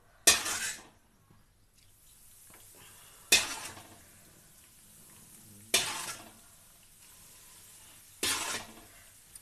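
Mysore pak mixture frying in oil in a pan under a steady faint sizzle, broken by four evenly spaced bursts of loud scraping as a utensil stirs it, about every two and a half seconds.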